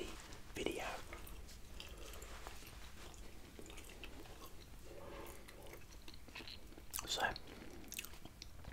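Gum is chewed right at the microphone in a quiet room, giving soft wet smacks and clicks with a couple of louder chomps, and a voice murmurs briefly.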